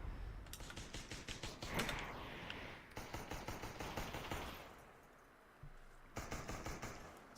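Sniper rifle gunfire in the virtual-reality battle royale game Population: One, a run of sharp repeated cracks and clattering bursts in two separated volleys with quieter gaps between them.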